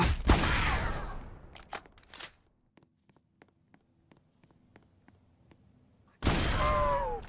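Gunfire in the video game Dead Rails: a dense opening burst of shots, then a long run of sparse, evenly spaced single shots, then another loud burst at the end.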